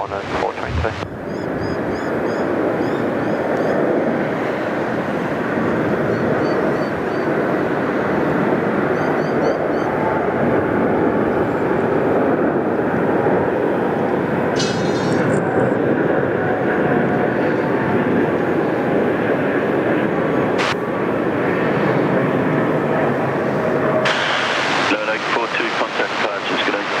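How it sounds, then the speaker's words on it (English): A Thai Airways Airbus A350 arrives at Sydney Airport, its jet engines making a loud, continuous roar with wind buffeting the microphone, and a sharp click or two cutting through. "There you go, beautiful Thai A350. They just arrived"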